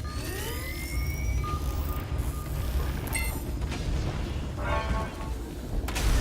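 Weapons firing on the Wraith monster in the game Evolve: a dense rumble of booming shots and bursts with electronic whines and tones layered over it, a continuous loud battle mix.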